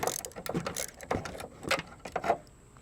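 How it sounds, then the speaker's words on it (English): A ratchet works a nut loose from a broken GM tail lamp housing on a Chevrolet Cavalier or Pontiac Sunfire, giving a string of quick, close mechanical clicks in uneven bursts at moderate volume. "And we'll come in on the inside with our ratchet."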